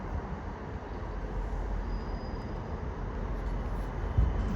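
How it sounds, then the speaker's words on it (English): Northern Class 158 unit 158861 pulls out of Doncaster station, a steady low rumble of engine and wheels on rails heard from the platform, fairly loud and even throughout. "as now departing is 158861 on the 1205 Northern Service to Hull"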